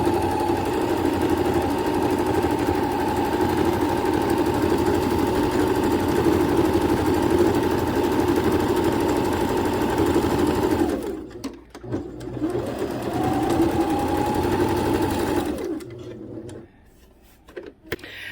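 Sewing machine stitching a sweater dress: a steady, close whirring hum that runs unbroken for about eleven seconds, stops briefly, resumes for a few seconds and then cuts out.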